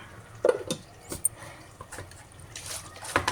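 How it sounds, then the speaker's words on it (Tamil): Water swishes and trickles as a mixer jar is rinsed and the rinse water is poured out into a cooking pot, with soft splashes and a faint clink of the jar, fairly close and quiet. "இப்போ தண்ணி விட்டு அலசி மிக்சியில் அதை ஊற்றினோம்னா"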